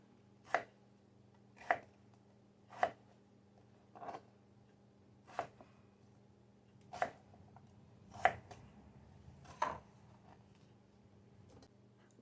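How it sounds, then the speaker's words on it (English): Potatoes for soup being chopped with a knife on a board, about nine distinct sharp chops at a slow, fairly even pace, close and clear over a quiet background hum. "So the first thing I'm going to do is chop up my potatoes."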